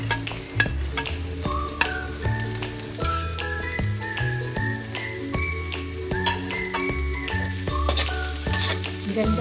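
Ginger sizzles and is stirred in a hot pan while cooking laing, a steady frying hiss with scraping stir sounds, running under prominent tuned background music.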